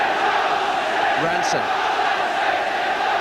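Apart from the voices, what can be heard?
football home crowd cheering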